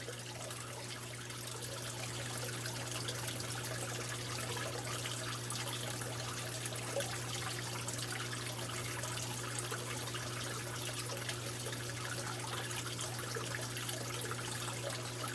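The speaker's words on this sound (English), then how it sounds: "all we got to do is finish topping off the water" Steady trickle of water topping off a brackish aquarium during a water change, a constant close-up gurgling wash with a low hum underneath and no talking.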